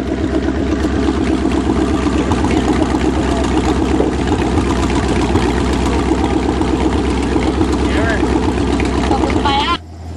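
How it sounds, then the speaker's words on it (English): A 1984 Chevrolet Camaro Berlinetta with a 305 V8 and four-barrel carburetor runs at a steady, loud idle with a dense, lumpy low rumble for nearly the whole stretch, cutting off sharply just before the end. "this will be the first start of summer of a grown-in Camaro 305 4-barrel"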